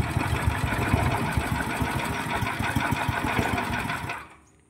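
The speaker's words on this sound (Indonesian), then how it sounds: "Nah, kita coba ya guys, kita nyalakan." A horizontal dough mixer for odading and similar fried dough snacks, its small gas-throttled engine running with a steady, rattling mechanical drone up close, then cutting out abruptly near the end.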